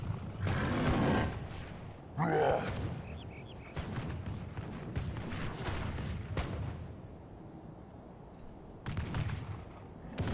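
Pistoliers fire in a Medieval 2 Call of Warhammer battle, with loud bursts of black-powder shots crackling in clusters, a volley near the start and another at mid-clip, then scattered reports over a low battlefield rumble.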